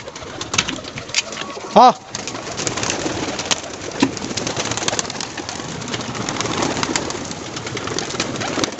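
Pet pigeons and a dove let out of their coop, with soft cooing and bird calls over a busy outdoor background; one brief, louder tonal call stands out near the start.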